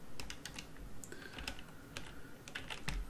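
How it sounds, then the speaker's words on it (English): Quick keystrokes tap on a computer keyboard while dimensions are entered for modeling a porcelain cup in Rhino, a short close burst of uneven clicks with no voice. "Just type in 5 and 5"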